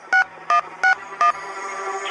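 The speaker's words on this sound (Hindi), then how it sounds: "फिर अर्जुन ने पीयूष को फोन लगाया" A phone dials a number in a quick run of four touch-tone beeps, evenly spaced and clear, followed by a faint tone as the call begins.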